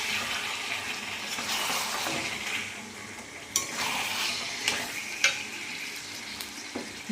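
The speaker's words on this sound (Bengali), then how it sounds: "এবার আমি চিকেনগুলো অ্যাড করে দেবো। মশলা কষানো হয়ে গেছে। ভালো করে মিক্সড করে নেব।" Chicken pieces stirred and fried in cooked spice masala for a chicken curry: a continuous sizzle with occasional sharp spatula scrapes and clinks against the pan.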